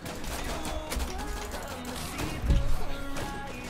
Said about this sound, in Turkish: Lan oğlum kendi adamıma sıkıyorum ya.